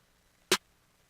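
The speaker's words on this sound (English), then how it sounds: "this is the other snare" A single short, crisp snare hit with a bright, noisy crack, isolated in near silence.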